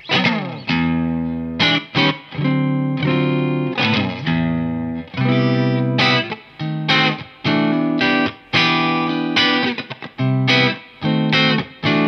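A Paoletti 112 Lounge thinline electric guitar, handmade from 130-year-old wood, is played with clean tones: close, loud chords and single notes ringing out in phrases with short gaps, alone without voices.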